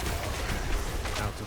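A short, dense roar of blasts from a Diablo 4 sorcerer's explosion in a dungeon fight, continuous and loud with crackling bursts throughout.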